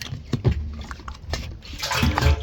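Hydraulic oil glugs and splashes as it pours through a spout into the tank of a Bobcat E80 mini excavator, in irregular gurgling bursts that grow into a fuller pour near the end.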